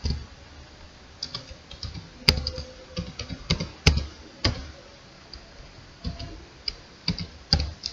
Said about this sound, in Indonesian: Lalu kita coba untuk jalankan dengan cara ketikkan node, lalu ketik nama file sesuai file yang kita simpan.